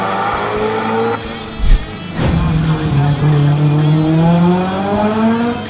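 A Mitsubishi Evo 5 race car on a track at a motorsport festival shootout revs hard, a short burst mid-clip, then climbs steadily through the gears in a loud, close engine whine.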